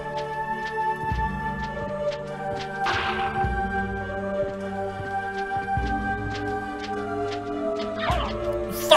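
Black Crow enemy birds in the video game Castlevania Symphony of the Night give short squawking cries twice over a steady game soundtrack, with a looping musical backdrop and brief flapping bursts.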